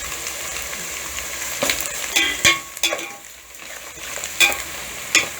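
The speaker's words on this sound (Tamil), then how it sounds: "புதினாவும் மல்லி சேர்த்து நல்லா கலந்துடுங்க." Mint and coriander leaves sautéing in a pan for a Chettinad-style mutton biryani, with a steady sizzle broken by several sharp scraping stirs of a spoon against the pan, close and fairly loud.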